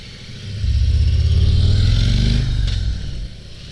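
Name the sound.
2022 Harley CVO Road Glide Limited motorcycle riding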